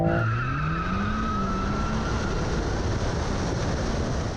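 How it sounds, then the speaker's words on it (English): Tire squeal and roaring engine of a car spinning its wheels while launching in second gear at a drag race, a rising whine at the start fading into a steady loud rush of noise. "I tried to be sneaky and launch in second, but all I did was wheel spin."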